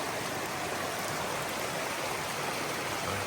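A shallow creek in Balsam Grove, North Carolina, flows steadily on a hiking route. The hiss of water is continuous, close and fairly loud, with no voices.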